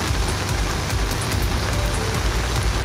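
Heavy rain pours down in Chennai during Cyclone Ditwah, a loud, dense, unbroken hiss of water hitting the ground and surfaces nearby, with no voices.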